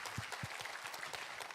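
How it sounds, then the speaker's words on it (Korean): A church congregation claps in thanks and praise to God, a soft, brief burst of scattered hand claps with a few distinct near claps over the quieter crowd. "우리 하나님께 감사와 영광의 박수 올려드리겠습니다"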